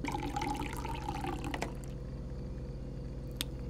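Water pouring into a coffee machine reservoir, a faint steady trickle and splash that thins out partway, with a couple of small clicks, close and quiet with no talk.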